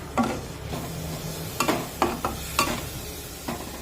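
Spice masala with a little water is mixed in a kadhai for a mixed vegetable bhaji, with a low sizzle under several distinct scraping stirs of the spoon against the pan.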